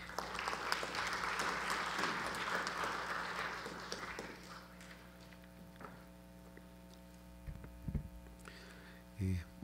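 At an anniversary ceremony for a physical education school, an audience applauds to welcome a guest. The clapping fades out after about four seconds, leaving a faint electrical hum and a few small knocks.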